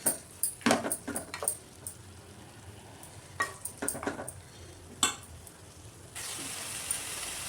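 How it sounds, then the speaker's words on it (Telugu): Chopped tomatoes stirred into a pan of frying masala for a mutton curry give a low sizzle, with spoon scrapes and clinks against the pan in short bursts and a brighter steady hiss near the end; nobody speaks. "ఇది కూడా మంచిగా కలిపి ఇది కూడా ఫ్రై అయ్యేదాకా సిమ్లో అయితే పెట్టుకోవాలండి."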